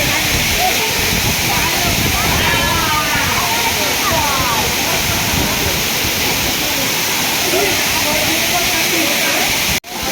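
Nhavankond waterfall at Talavade in Devgad, a loud continuous roar of falling water filling the whole clip, steady and close, cut off abruptly just before the end.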